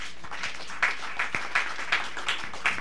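A church congregation claps in a steady rhythm, soft scattered hand claps at moderate distance with faint voices behind.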